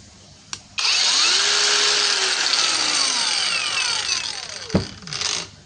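A cordless angle grinder fitted to an LXT battery spins up after a click and runs steadily at high speed with a whining pitch, loud and close, then winds down near the end with a brief clunk.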